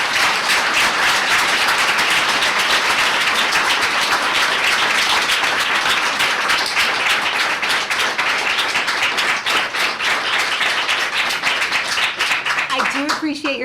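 Audience applause fills a school board meeting in Batavia: dense, loud, continuous clapping that runs unbroken the whole time, with a few faint voices underneath near the end.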